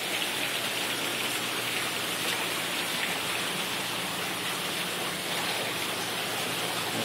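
Water pours and splashes steadily indoors like a waterfall, a dense, continuous rushing spray that stays loud and unbroken throughout, with no voices.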